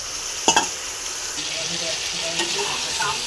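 Fried potatoes sautéing with spice paste in a pan make a dense, continuous hiss and sizzle, with a couple of sharp utensil clinks near the start, close and steady throughout, with no speech.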